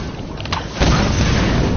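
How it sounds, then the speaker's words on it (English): An explosion in the Tomb Raider video game, a sudden broadband boom that hits partway through and rumbles on loudly with low-end weight until the end, heard alone. "It's an explosion there."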